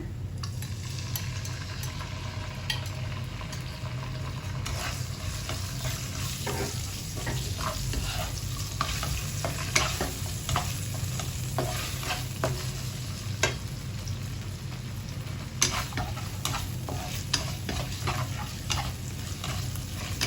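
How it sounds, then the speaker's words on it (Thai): Marinated liver stir-frying in a pan, a steady close sizzle with scattered clicks and scrapes of stirring, a low hum underneath, no talking. "ใส่ตับที่เราหมักไว้ลงผัดเลยค่ะ"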